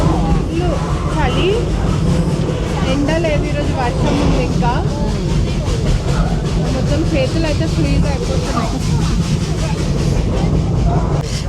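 Small carriages of the Puffing Billy steam train roll through an Australian forest, a steady rumbling clatter running continuously and fairly loud beneath people talking nearby in cold weather.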